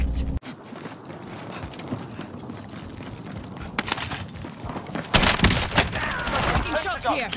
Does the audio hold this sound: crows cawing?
no